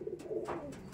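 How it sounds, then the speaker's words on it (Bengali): Madrasi double-band pigeons coo faintly in a short, soft murmur of low burbling calls, quiet and close, with no talk. "দেখুন ডাবল পট্টির পায়রা"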